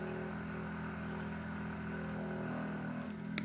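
A truck outside drones with a loud, steady low engine rumble and hum that holds throughout, heard from indoors with no talking.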